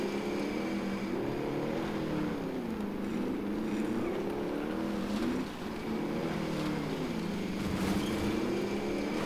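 Engine drone from a drivable vehicle in Call of Duty Warzone, rising and falling in pitch as it accelerates and shifts, loud and continuous with no talking.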